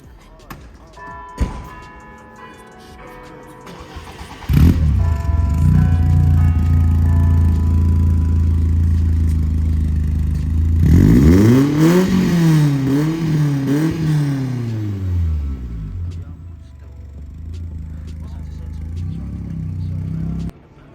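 A BMW E30's engine rumbles low at idle, then roars close and loud as it revs up and down in rising and falling sweeps before settling back, with people talking around it.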